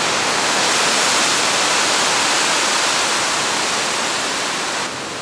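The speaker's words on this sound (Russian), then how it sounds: "Волны серьезные." Ocean surf at Kelingking Beach on Nusa Penida, a steady, dense broadband roar of heavy waves that holds unbroken at high volume for the whole stretch, with no voices.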